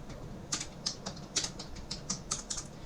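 An SQL query being typed on a computer keyboard, a close run of light, irregular key clicks over soft background noise, with no voices.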